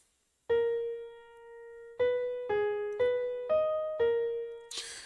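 A composed melody, inverted and played in reverse, rings out as clear sustained pitched notes: one long opening tone, then about five shorter notes in a steady stepping rhythm, close and alone, ending in a brief noisy burst.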